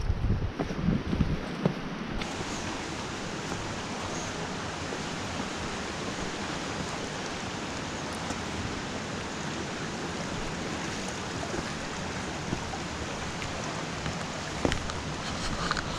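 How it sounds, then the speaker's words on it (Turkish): A distant waterfall near the Maden caves, heard from a rough trail beside a creek, gives off a steady, even rushing roar that stays constant throughout with no voices. "Çünkü şelalenin sesi geliyor ileride duyuyorum."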